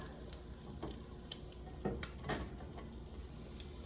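Food frying in a pan during a budget home-cooked meal, with a steady, quiet sizzle and faint crackling ticks throughout, no voices over it.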